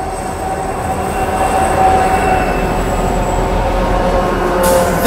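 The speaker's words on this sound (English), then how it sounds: "we got freight train passing through platform number 3" A freight train, locomotives G512 and VL356, rolls through platform 3 at Armadale Station in Melbourne, a loud continuous rumble of wheels and wagons with faint squealing tones, close and steady throughout.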